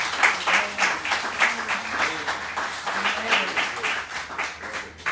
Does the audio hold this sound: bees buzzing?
no